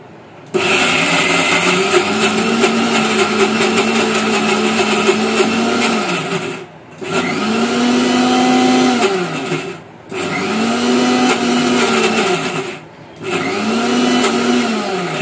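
A kitchen mixer grinder whirs loudly as it grinds garlic cloves and spices, running in three or four sustained bursts with brief pauses between them, and no one talks.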